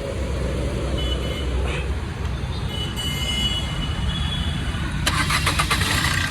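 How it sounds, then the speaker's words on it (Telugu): A 2015 Maruti Swift Dzire diesel car cranks on its self-starter near the end, a quick run of rhythmic pulses after steady, broad outdoor background noise. "సింగిల్ సెల్ఫ్తో స్టార్ట్ అవుతుంది బండి"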